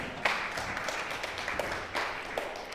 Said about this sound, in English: give us a little round of applause